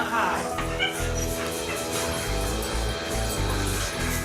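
Dog barks, yips and whimpers repeatedly, close and loud, mixed with people talking over a steady background hum.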